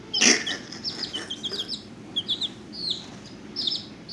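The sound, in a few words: pet chicken clucking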